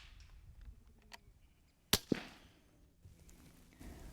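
A rimfire rifle fires while shooting rabbits, one sharp crack followed a split second later by a second snap, standing out clearly against quiet outdoor ambience.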